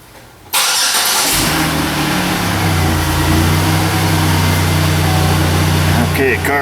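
A Chevy Impala with EVAP trouble codes cranks briefly and catches, then settles into a steady, loud idle with a constant low hum that continues to the end.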